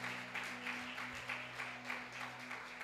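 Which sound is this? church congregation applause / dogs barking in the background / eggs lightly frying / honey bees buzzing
church congregation applause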